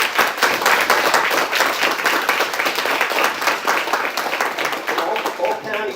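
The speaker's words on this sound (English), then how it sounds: "That's applause, guys." Enthusiastic applause and clapping from a crowd at a city council meeting, dense and steady for several seconds with a few raised voices mixed in.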